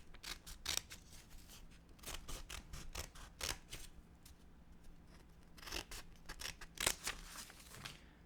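Scissors snip through paper in quick, crisp bursts, close-up and quiet, with short clusters of cuts separated by brief pauses and no talking.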